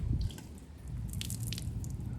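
A soaked foam polishing pad lifted out of warm water sheds a few quick drips and wet squishes, faint and close over a low background hum.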